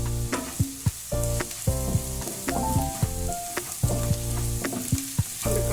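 Vegetables for egg fried rice sizzle loudly in a hot pan as a utensil stirs and scrapes them in quick, repeated strokes, close up, with no voices.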